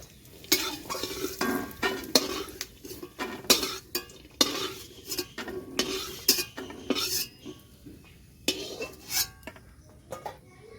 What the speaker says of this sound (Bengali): তো দেখি বাদামটাকে আমি তুলে নেব